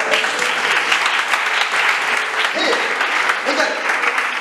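A youth gathering at a church event breaks into loud, sustained applause and acclaim. The clapping is thick and continuous, with shouts and cheers mixed in throughout.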